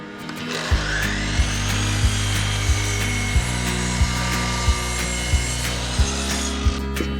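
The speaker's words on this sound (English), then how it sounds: "I'm cutting the boards to 2 meters long now." A handsaw cuts wooden boards to length for a DIY geodesic dome greenhouse project, pulling in steady back-and-forth strokes with a regular rhythm. It is close and loud, with no talking.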